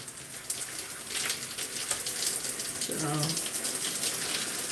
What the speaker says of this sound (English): So we can go ahead and rinse all of this out.